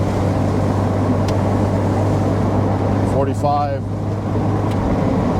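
An off-road Pontiac Fiero drives in second gear at about 40 mph, its engine a steady loud drone throughout, with a brief rising whine near the middle as people talk over it.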